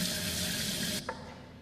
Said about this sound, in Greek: αν δίψωσε κι άνοιγε να πιει νερό στη βρύση, ο ποτάμος ξεχύλισε